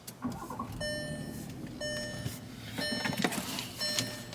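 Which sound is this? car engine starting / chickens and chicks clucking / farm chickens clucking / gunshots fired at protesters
car engine starting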